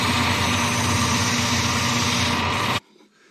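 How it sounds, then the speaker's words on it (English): A power sander runs continuously on maple wood to make matching wood filler, a steady loud whirring drone that cuts off abruptly near the end, leaving near silence. "Taking some of this maple, and I'm just sanding it so I can make some wood filler"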